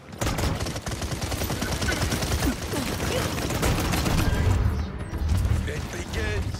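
Rapid, dense gunfire from a sniper in the video game Paladins rattles on without pause and stays loud throughout, with in-game character voices calling out over the shooting.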